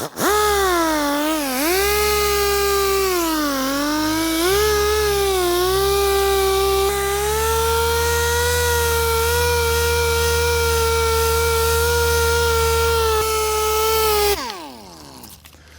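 A pneumatic polisher compounding the paint on a Honda Civic Si, a steady loud whine with rising and falling pitch during the first seconds, then holding a constant tone before spinning down near the end, with no talking.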